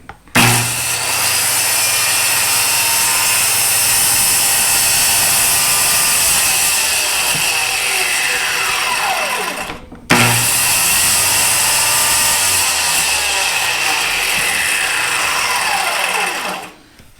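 A saw plunging into wood, making two long cuts, each a loud steady high-pitched whine that winds down as the blade coasts to a stop, with a brief pause between them and no voices.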